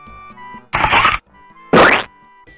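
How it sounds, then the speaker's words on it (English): A Hanna-Barbera-style cartoon splat from a Berenstain Bears learning game hits twice as loud, broad, wet bursts about a second apart, between quiet tonal game music. "The Hanna-Barbera splat."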